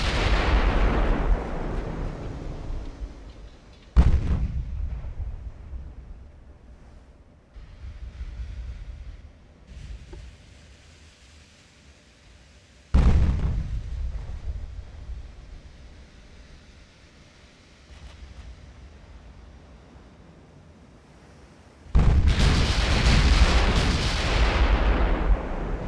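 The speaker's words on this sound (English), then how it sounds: "There's the 8-inch firing at the heavy cruiser now." Eight-inch naval guns fire on a heavy cruiser in Ultimate Admiral: Dreadnoughts, three heavy booming salvos spaced several seconds apart, each trailing a long rumbling decay over wind and sea noise.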